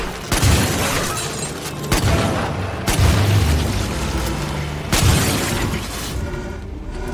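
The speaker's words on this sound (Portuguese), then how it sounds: "Eu não gosto de dar tiro em bicho." Four heavy, booming gunshots in Far Cry 5 Dead Living Zombies, spaced a couple of seconds apart, each a loud blast followed by a rumbling echo over continuous background noise.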